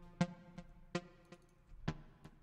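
A Dream Keys synth preset in FL Studio plays soft, bell-like keyed notes, six spaced hits with ringing harmonic tails decaying between them, alone and fairly quiet.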